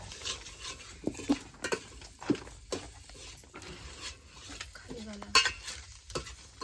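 Masala being dry-roasted and stirred in a pot over a wood-fired chulha while cooking village-style chicken: scraping, rattling stir strokes with a soft sizzle, irregular and close, with brief bursts of background voices.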